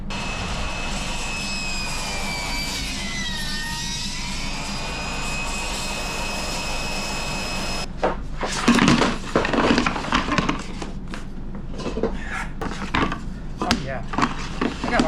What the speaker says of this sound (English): I'm going to trim these exactly in half